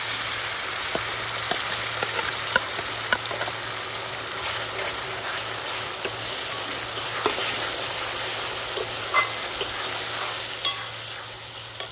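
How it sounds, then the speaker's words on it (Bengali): Onions with ginger, garlic and chili sizzle steadily in a hot pan, a constant bright frying hiss with occasional scraping stir strokes, close and alone with no talk. "পেঁয়াজটা ভালো করে ভাজা হয়ে গেছে, এবার আমি মশলাগুলো দিয়ে দেবো, আদা রসুন আর লঙ্কা।"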